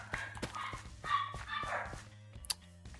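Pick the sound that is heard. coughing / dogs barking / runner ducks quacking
dogs barking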